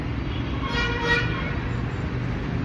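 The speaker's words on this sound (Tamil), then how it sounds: "அப்படியே ஃபுல்லாக டிராஃபிக்காக தான் இருக்குது இப்போதைக்கு" Dense traffic on a busy 100-foot road rumbles steadily, with a car horn tooting briefly near the middle over the constant low engine drone.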